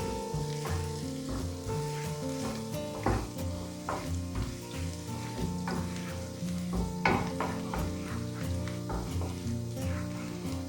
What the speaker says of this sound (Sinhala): සුදු ලුණු ටික දාගෙන මේක පොඩි වෙලාවක් මේ විදිහට පොඩ්ඩක් ෆ්‍රයි කරගන්න ඕනේ